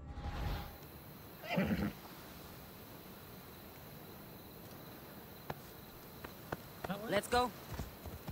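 A horse neighing in the Assassin's Creed Odyssey game, a short whinny early on against a faint outdoor insect hum, with later chirps and scattered sounds, quiet overall and no clear talk.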